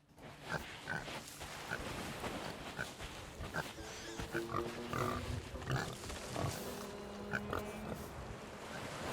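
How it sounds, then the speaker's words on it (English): Pigs on an island in the video game Sea of Thieves grunt and oink in short repeated bursts over a constant wash of surf and waves. "Got pigs on the island"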